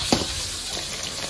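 Ribbonfish pan-frying in a wok for a home-style ribbonfish with cabbage dish, giving a steady close sizzle of hot oil with a brief clink near the start, no voices.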